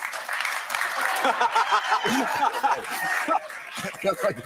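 An audience at a talk on men, women and marriage cheers and claps, with laughter and chuckles rippling through a steady, fairly loud crowd roar that swells and dips over several seconds.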